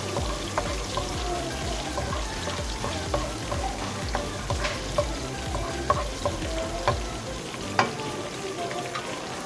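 Chopped green onion tops sizzle in a hot pan for homemade spaghetti, a steady frying hiss with occasional stirring scrapes and small pops throughout, close and moderately loud, with no talking.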